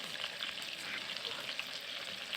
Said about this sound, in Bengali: তারপরে এখন তেলের মধ্যে দিয়ে এগুলো হালকা করে ভাজতে হবে অল্প আঁচে।